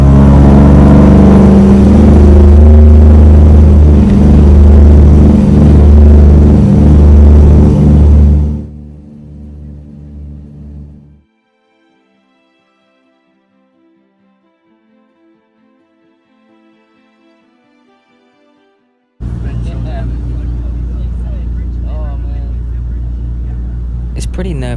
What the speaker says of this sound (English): the roar of the engines, the hum of the propellers